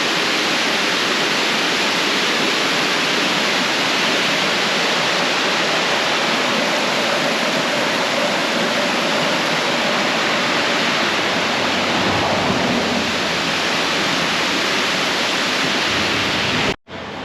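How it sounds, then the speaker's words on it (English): Water pours steadily over a small dam, a continuous broadband rush of a little waterfall heard close and alone, with a brief handling thump at the very end. "It's a little dam, little waterfall."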